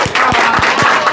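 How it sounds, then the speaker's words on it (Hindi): A few people clap indoors, about five distinct, evenly spaced claps over a second, close and fairly loud. "अब ये ताली सुनो"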